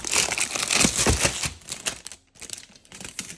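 Sheets of sublimation paper slide and crinkle as they are pulled from a pack, a close rustling and crackling of paper in uneven bursts that briefly drops away before resuming.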